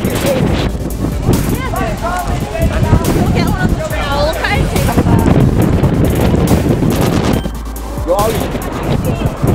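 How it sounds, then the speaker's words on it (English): Strong wind buffets the microphone outdoors on a boat trip, a loud continuous roar with a brief dip near the end, while people shout and talk excitedly over it. "there's a wind going on here"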